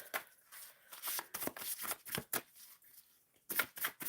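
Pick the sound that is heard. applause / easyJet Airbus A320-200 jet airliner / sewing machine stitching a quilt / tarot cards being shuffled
tarot cards being shuffled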